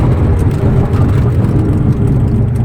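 An Audi S5 engine pulls hard under acceleration, a loud deep droning roar heard from inside the car, steady and continuous for a few seconds.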